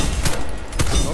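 Gunfire in the online shooter Warface, a dense burst of shots with sharp cracks recurring across the moment, loud and close over constant game-mix noise.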